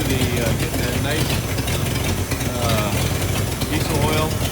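A 1978 Ford F250 truck with a diesel engine idles close by, a steady loud rumbling, knocking chug that runs the whole time, with a voice speaking over it.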